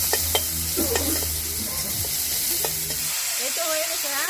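Eggplant frying in a pan, a steady close sizzle with occasional stirring clatter, the hiss dropping briefly near the end.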